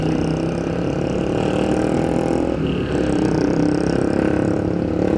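A Yamaha NMAX 155 scooter engine fitted with an iridium spark plug runs close by, a steady mid-pitched hum with a brief dip and throttle blip midway before settling back to an even drone.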